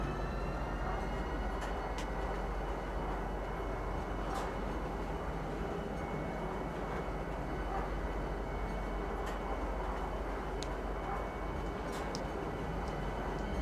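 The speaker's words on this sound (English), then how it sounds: "Don't mind if my tram flies off the track here." A tram gliding along its track in the video game Star Citizen, a steady loud rolling rumble with a sustained metallic whine and occasional sharp clicks, heard alone without talk.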